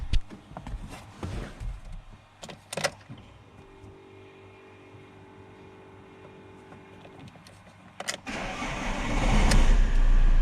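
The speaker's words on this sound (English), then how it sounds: "Next I'm going to start the engine." A Fiat Grande Punto engine, just refilled with coolant, turns over with a few clicks and a whirring starter, pauses, then catches and roars into a loud, steady idle.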